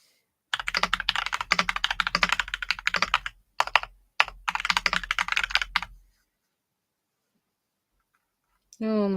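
Rapid clattering keystrokes on a computer keyboard come in dense close bursts with brief pauses, then stop, followed by silence and a short final sound.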